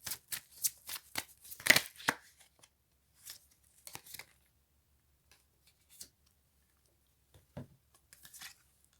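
Divination cards shuffled and drawn in a brisk, close run of crisp riffling bursts over the first two seconds, then a few scattered single card slaps and flicks separated by quiet pauses.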